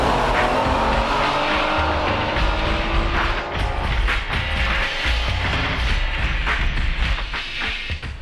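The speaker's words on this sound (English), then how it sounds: "Now let's see a time attack, uncut, using optional larger diameter tires at Suzuka circuit." A Honda Type R on a flat-out time attack lap of Suzuka circuit on optional larger-diameter tires, its engine roaring loud and continuous with rising and falling revs, close and steady throughout.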